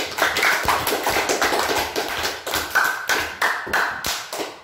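A classroom of students claps for a presenting group in a rhythmic, patterned beat, with loud, evenly spaced bursts of hand claps repeating several times.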